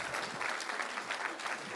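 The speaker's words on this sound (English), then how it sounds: "Let's give them a big round of applause." Sustained applause fills a school board meeting as the crowd honors agriculture teachers, an even, crackling wash of many hands clapping together at moderate volume with no talking over it.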